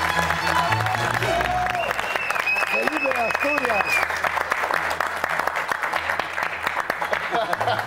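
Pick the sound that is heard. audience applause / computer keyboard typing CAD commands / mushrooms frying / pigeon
audience applause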